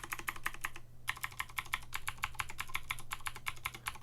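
Rapid typing on a mechanical keyboard with PBT keycaps, each key clacking sharply as it bottoms out, steady rhythm with a brief pause, close and clear.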